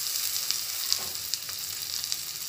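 Tomato dropped into hot oil for a Bengali bhetki fish curry sizzles and fries steadily up close, with faint crackles and stirring clicks and no voices.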